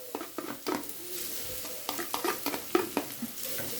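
Onions and potatoes sizzle in hot oil in a pan for an Egyptian vegetable omelette, with a steady frying hiss broken by quick scraping stirs, close and clear.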